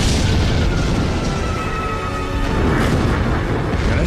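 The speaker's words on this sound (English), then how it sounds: "you could see the flashes, obviously from the bombs going off" Bombs explode during the Black Buck raids of the Falklands conflict, heard as a loud, continuous rumbling roar of booms that blend together without clear separate blasts.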